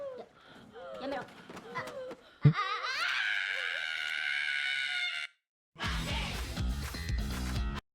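An anime girl screams in a drawn-out, loud, shrill cry lasting a couple of seconds, preceded by lighter vocal sounds and followed by a brief silence and dramatic music.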